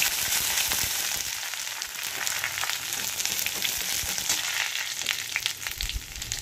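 Grated ginger frying in a pan with cardamom, asafoetida and spices while cooking a vegetarian paneer dish, a close steady sizzle with crackling bursts and occasional stirring scrapes, no voices.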